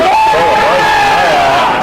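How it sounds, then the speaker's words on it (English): A crowd at a Hills Football League Australian football match between Mt Lofty and Blackwood erupts in loud shouts and whoops after Mount Lofty's first goal, with a voice carrying over the sustained roar. "the crowd has gone wild up here with us"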